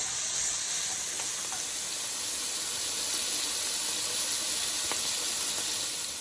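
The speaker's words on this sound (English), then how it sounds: "go ahead and add the bacon that we chopped up earlier" Chopped bacon sizzling steadily in a hot pan for lobster mac and cheese, a continuous bright hiss and crackle at even loudness throughout with no talk.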